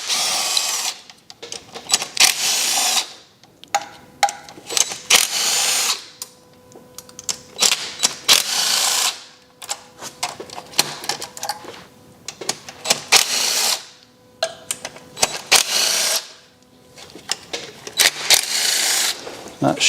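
A handheld power tool whirs in repeated short bursts, loosening the rocker cover bolts on a BMW engine one after another, with clicks and quiet gaps between each bolt.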